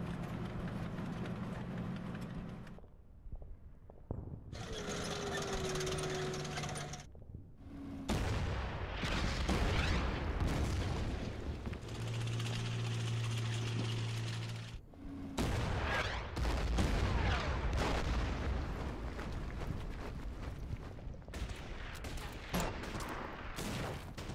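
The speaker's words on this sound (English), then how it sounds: "our men are under a heavy fire" Heavy gunfire and artillery in the Order of Battle: Burma Road strategy war game, loud and dense bursts of shots and booms with brief lulls around the fourth and fifteenth seconds, no talking.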